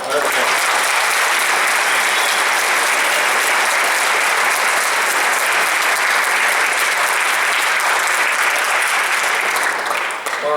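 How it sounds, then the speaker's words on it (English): Loud, sustained applause from a crowd at a high school JROTC change of command ceremony. Many hands clap in a thick, even wash for about ten seconds. "Let's give a round of applause."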